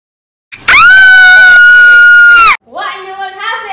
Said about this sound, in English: They woke in the morning to a scream.